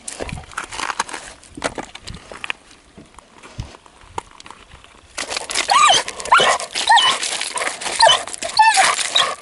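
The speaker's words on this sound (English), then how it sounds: "The dog ate the fish worms." A dog whimpers near a fishing spot, high thin whines and yelps coming in short bursts that grow louder and more frequent in the second half, with scuffling and knocks around them.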